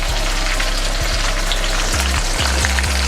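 Peppers and onions fry in a pan alongside salmon, giving a dense, steady sizzle close up, with a few soft scrapes and clinks of stirring mixed in.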